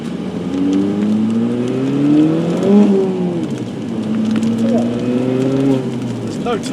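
A turbocharged Ford Fiesta with hybrid turbo and engine work revs and accelerates on a wet road, its engine note rising, dipping at a shift, then climbing again, heard from inside the car with someone speaking over it.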